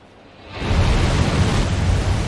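Rocket liftoff in the space race game Mars Horizon: a broad, dense roar swells up within half a second and holds loud and steady, with no voices.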